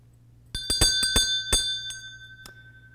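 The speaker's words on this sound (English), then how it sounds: "And we ring a bell." A hand bell rings during an Easter church worship service, with about eight bright, clear strikes in an irregular rhythm, each ringing briefly in an otherwise quiet room.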